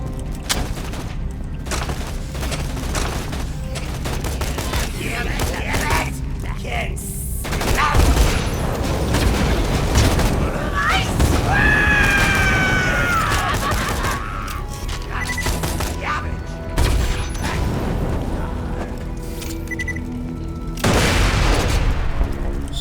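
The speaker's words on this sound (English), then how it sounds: "Slow fuse time on that grenade." Grenade explosions and gunfire in Borderlands 2, with booming blasts and rapid fusillades rolling through a continuous dense game mix, loudest around the middle and near the end.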